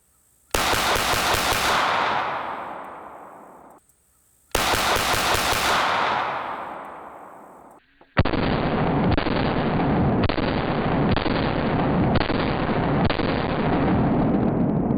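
Pistol shots from a Sig Legion P226 or HK USP Expert, two loud sustained bursts with a short gap, then a long dense stretch of rapid reports, all loud and close with no talk.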